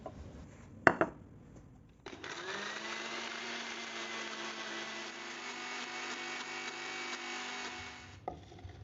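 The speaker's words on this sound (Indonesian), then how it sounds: "Kita blender dulu cabai rawit dan bawang putihnya." An electric kitchen blender whirs for about six seconds as it purees bird's eye chilies and garlic with oil, a steady close droning motor preceded by a few knocks and clicks of the jar and lid.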